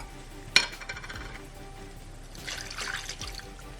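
Pepperoncini liquid poured into a crock pot, a brief clink at the start followed by a soft trickle and a louder splashing pour near the end, close by.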